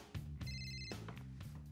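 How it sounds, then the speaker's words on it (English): Telephone ringing with a bright electronic trill that sounds once in a short burst over a steady background of music or television sound. "Lauren, your phone's ringing."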